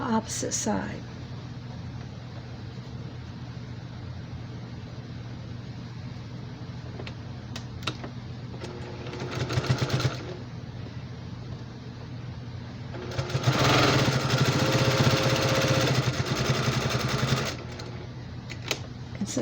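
A sewing machine back stitching a quilted basket runs in close bursts of rapid mechanical whirring, a short run near the middle and a longer stretch later, with a person talking quietly between them.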